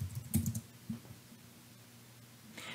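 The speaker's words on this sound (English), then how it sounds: "In the search bar, I'll type educational activity sheets." Quick soft keystrokes on a computer keyboard as a search term is entered, a short cluster of clicks, then quiet and one more faint tap near the end.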